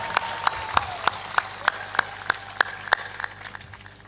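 An audience at a Hindi spiritual gathering claps in steady rhythmic unison, with evenly spaced loud claps about three per second that fade slightly toward the end.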